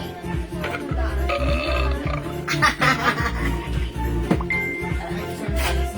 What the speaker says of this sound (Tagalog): Teka lang, dighay tayo, dighay tayo.